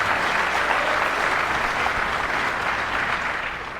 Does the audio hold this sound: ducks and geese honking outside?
no